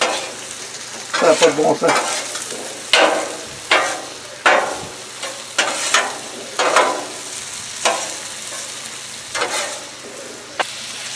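Bacon fries on a griddle plate, a continuous sizzle under repeated scraping and stirring strokes of a spatula, with someone speaking briefly in French.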